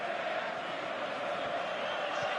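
Stadium crowd at a football video game match: a steady, dense roar of many voices cheering and chanting, continuous and fairly loud throughout.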